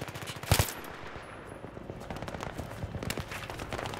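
Battlefield 3 combat with a loud close gunshot up front, then scattered rapid machine-gun bursts and further shots crackling through the rest at mid distance.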